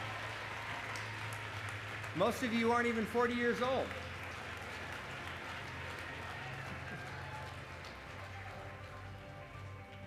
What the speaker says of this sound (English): You can keep clapping while she's going across there